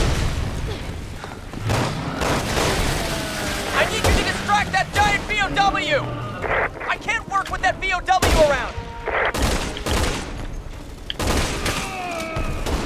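Sniper rifle shots from Resident Evil 6 crack out amid a busy firefight, several sharp loud reports with other gunfire and thuds around them, while someone talks over the action.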